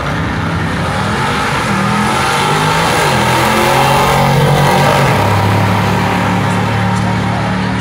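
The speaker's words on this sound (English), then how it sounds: "67 Chevelle. He's got a 406 small block." A 1967 Chevelle with a 406 small-block engine revs hard at a drag strip, producing a loud, continuous, heavy roar with a steady rumble that swells slightly midway, and no talk.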